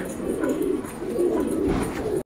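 A pigeon coos in low, soft, repeated throaty rolls, close by and continuous, with faint background noise.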